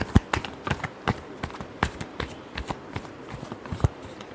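Tarot cards are shuffled in a run of quick, crisp riffling slaps and flutters, irregular bursts repeated close up for several seconds without talk.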